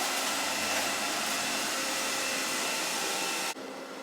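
An iLife V5S Pro robot vacuum and mop runs on a hard floor with a steady, close whirring hum, then drops abruptly to a quieter tone near the end.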